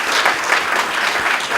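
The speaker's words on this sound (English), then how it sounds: "Can we give the Minister a closing round of applause?" Conference audience at a national cyber security conference giving the Minister a closing round of applause: dense, even clapping from a large crowd, sustained and fairly loud, with no pauses.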